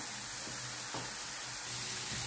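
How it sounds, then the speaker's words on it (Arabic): Onion frying in a pan for shish barak filling gives a steady, close hiss of sizzling with a couple of soft stirring touches, no voices. "لعمل حشوة الشيش برك بدنا أول شي نقلي البصلة"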